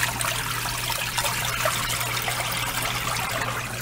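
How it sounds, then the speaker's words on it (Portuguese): Water from a Consul washing machine's fabric softener compartment trickling and splashing steadily, a continuous close liquid flow with a low motor hum underneath. "No momento em que eu abrir e fechar a tampa, ela também vai soltar essa água de amaciante."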